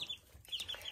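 Young meat and layer chickens in a brooder give short, high peeping clucks in quick bursts, close and moderately loud over a faint background hum.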